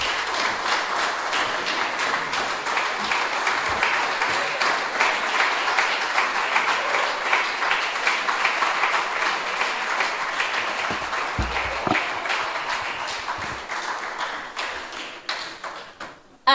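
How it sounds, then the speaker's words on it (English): A crowd claps steadily and loudly at an evening awards ceremony of a benevolent society, a dense, sustained applause that thins slightly toward the end, with no one speaking over it. "give another round of applause for Joanne"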